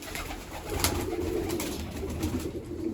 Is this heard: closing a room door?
no